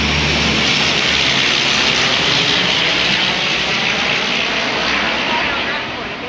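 A loud airplane passes close overhead in Iceland, a broad continuous engine roar that holds steady and begins to ease at the end, with people talking beneath it.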